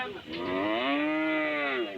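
A young calf at a cattle market gives a single long, loud moo that swells and then fades, rich and droning, with no talking over it.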